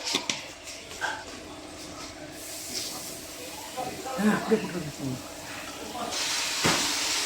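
Cinnamon, cloves and cardamom dropped into hot oil for ghee rice give a hiss that swells into a broad, steady sizzle toward the end, under a person talking.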